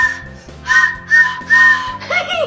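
A dollar store toy train whistle blows several short, shrill toots in a row, close and loud, with a warbling tone at the end.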